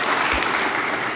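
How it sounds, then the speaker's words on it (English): Audience members at an AI workshop session clap in a brief, dense, continuous burst of applause that stays steady throughout. "let's make also a big applause for him"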